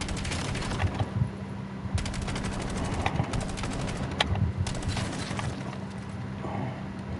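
Rapid gunfire from a weapon in the video game Call of Duty Black Ops 7 rattles in dense, continuous bursts over a steady low hum, loud and close throughout.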